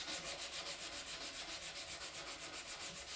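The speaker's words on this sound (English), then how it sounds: "grab some sandpaper and clean them up too. I like to start with 220" Wood being hand-sanded with 220 grit sandpaper during spokeshave body shaping, a steady rhythmic rasping of quick back-and-forth strokes, close and continuous with no talking.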